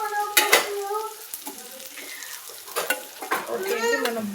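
Bitter gourd with chilli powder frying and being stirred in a pan, close sizzling with repeated scraping and clinking of a spatula against the metal in irregular bursts, no talk.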